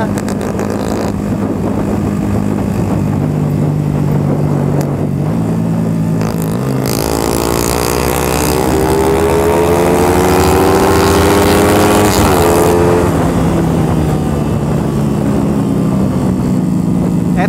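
A loud, close motorcycle engine idling and then revving up, its pitch climbing and holding before easing back down, with a rough mechanical drone throughout.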